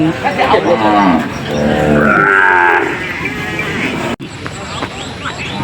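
Cattle and buffalo lowing at the Don Thoi livestock market in Sakon Nakhon, Thailand, with several loud moos close by amid crowd chatter and someone speaking over the market bustle.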